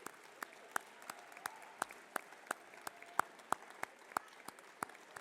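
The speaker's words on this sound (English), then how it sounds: "let's give them a round of applause" Sparse, scattered applause at a school athletic awards night, individual claps ringing out one by one at an uneven pace in a quiet hall, modest in volume.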